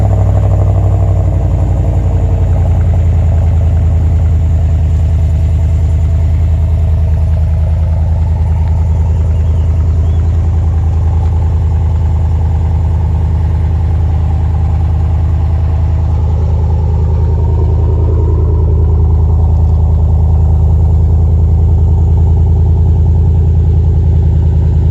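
A 2020 GMC Sierra AT4 with a muffler-delete exhaust idles after a cold start, a loud, deep, steady rumble with a slight clatter that eases a little over time, no talking.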